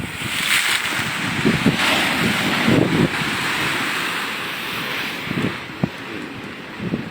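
Surf rolls and crashes steadily at a fishing port pier (PPI Beba) during high seas, broad continuous wash of waves with gusts of wind buffeting the microphone and occasional sharper splashes, no voices.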